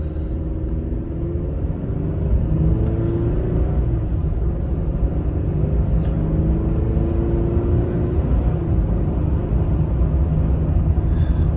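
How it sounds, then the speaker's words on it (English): A Chevrolet Silverado pickup with the 2.7L engine drives along with a warmed-up transmission, giving a steady, loud engine and road rumble that holds for the whole stretch with slight swells as it moves through gears. "All right, guys, warmed up transmission. Let's see how she shifts in normal driving."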